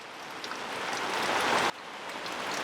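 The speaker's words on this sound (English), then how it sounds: "We just had some rain and it's still raining gently." Gentle rain patters on a camping shelter as a steady soft hiss, swelling a little before dropping abruptly to a quieter, even wash.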